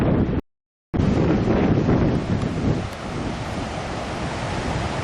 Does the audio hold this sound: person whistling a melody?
no